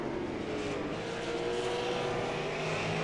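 Race cars roaring around Lanier National Speedway on the final lap of a Super Series 200 stock car race, a loud, continuous engine drone with no distinct pass-bys.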